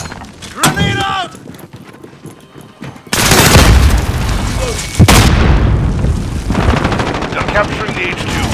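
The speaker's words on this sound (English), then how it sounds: "Grenade out!" A grenade blast and bursts of gunfire ring out in a Call of Duty: Modern Warfare headquarters match, with a loud explosion around three seconds in, another sharp blast near five, and continuous combat noise around scattered game voice callouts.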